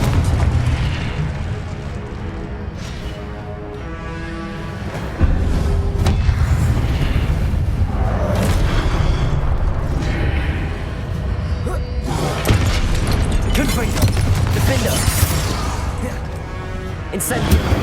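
Spell blasts from the Confringo fire curse in the Hogwarts Legacy PC game, with loud booming bursts and crashes over a constant dense layer of game sound and music, interspersed with a voice calling out spell names.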